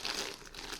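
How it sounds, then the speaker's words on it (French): A knife cuts open a parcel's packaging, producing a brief, close crinkling and crumpling. "Ouverture du colis. Et forcément je prends un couteau qui coupe."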